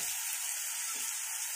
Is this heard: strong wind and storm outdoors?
no